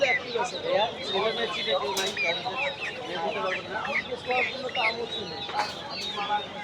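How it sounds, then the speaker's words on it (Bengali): Many chickens crowd a rural poultry market in Tongi, Bangladesh, clucking and squawking continuously close by while people talk through the din. "এখানেও কিন্তু অনেক সুন্দর সুন্দর মুরগি আছে।"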